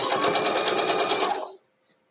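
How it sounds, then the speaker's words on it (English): A sewing machine whirs rapidly and steadily up close for about a second and a half, sewing a quarter-inch seam on a quilt block, then stops abruptly, followed by a tiny click. "So I do my 1/4 inch."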